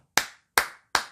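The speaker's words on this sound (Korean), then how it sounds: "박수를 보내드렸어요." Three sharp, single hand claps, close and crisp, evenly spaced about a third of a second apart, each ringing briefly before silence.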